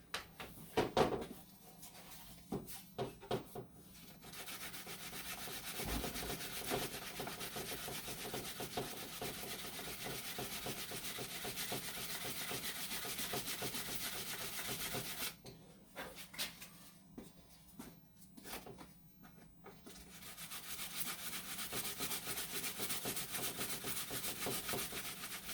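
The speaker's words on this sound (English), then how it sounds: "I'm going to just kind of sand this. I folded it over so it'll stay a little straighter. And now, I'm just going to sand away on it." Folded 100-grit sandpaper rubs back and forth along the edge of a car tail light, a steady, faint scratchy rasp with brief pauses.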